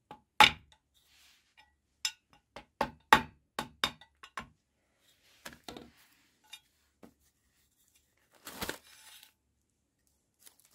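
Sharp metallic knocks ring out as a bearing is driven out of a Tongsheng TSDZ2 motor spider with a 19mm socket, a quick irregular series of close taps followed by a few scattered clinks and a brief scrape.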